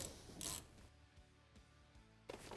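A 5 mm Allen socket on a ratchet backs out the brake caliper adjuster screw on a Polaris Ranger, giving a few faint, close mechanical clicks and scrapes in a quiet space.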